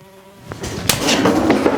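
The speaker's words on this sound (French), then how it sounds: "Il y avait une mouche" A housefly buzzes close by indoors during a tense film shoot, a fluctuating drone that swells in after a quiet start, with a few sharp knocks mixed in and no talking.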